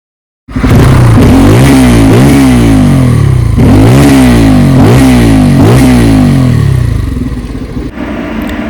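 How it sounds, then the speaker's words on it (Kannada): A 2024 Bajaj Pulsar N250 motorcycle engine revs hard and repeatedly, loud and close, each throttle burst rising and falling before settling back toward idle. "ಬೈಕ್ ಸೌಂಡ್ ಕೇಳ್ತೀರಾ ನೋಡಿ."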